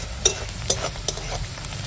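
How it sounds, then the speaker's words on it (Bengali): Chopped onions frying in mustard oil in a wok, a steady close sizzle with a few sharp scrapes of the stirring spoon, no talking. "এখন দিয়ে দেবো পেঁয়াজ, পেঁয়াজটা আগে ভাজবো"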